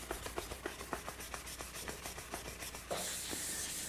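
A guitar's paint finish is wet sanded by hand in quick back-and-forth strokes, giving a close, rhythmic scrubbing that shifts to a steadier, brighter rasp near the end.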